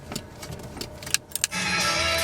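Old dually pickup truck cranking on a cold start, with a few clicks and short bursts of cranking followed by the engine catching and settling into a steady rumble.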